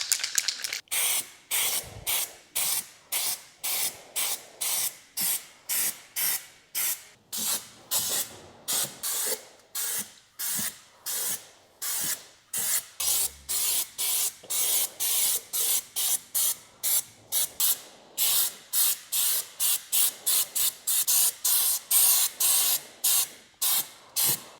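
An aerosol can sprays a coating onto a VW Passat R36 in short, rhythmic hissing bursts, several dozen in all, separated by brief pauses. The spraying is close and fairly even, with no talking.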